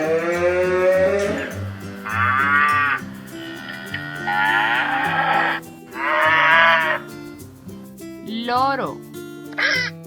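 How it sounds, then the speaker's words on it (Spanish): A cow moos several times in long, drawn-out calls separated by short pauses, close and loud, with no other sounds around it. "Vaca."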